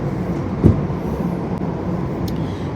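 Inside a moving train: a constant low rumble of the carriage, with a brief bump near the start and faint clicks, close and steady, no voices.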